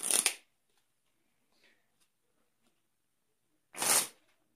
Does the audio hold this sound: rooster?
no